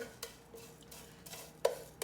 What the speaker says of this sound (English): We're gonna sear them and you'll hear them sizzle.